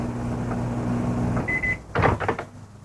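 A microwave oven heating a McCain microwave pizza hums steadily, then gives a single beep as it finishes, followed by the clatter of its door opening, with no voices.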